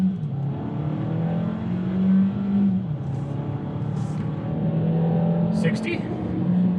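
A 2021 Kia Seltos pulls away from a stop at full throttle, a steady engine drone climbing in pitch through the gears, heard from inside the cabin with a voice talking over it.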